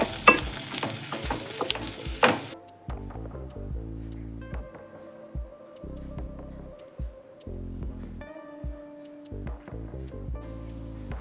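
Pallipalayam mutton masala being stirred and fried, with a brief loud sizzle and scraping at first, then clattering taps and knocks of a utensil against the pan, close and intermittent, with no talking.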